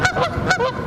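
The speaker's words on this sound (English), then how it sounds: "Warmer weather means nesting season for Canada geese, a time of year when they're known to be aggressive." Canada geese in nesting season on an Ontario campus give a quick run of loud, nasal honks, three or four calls in under a second, close by and with no talk.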